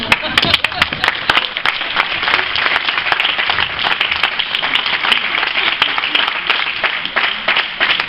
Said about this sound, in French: C'est bizarre ta manière d'applaudir.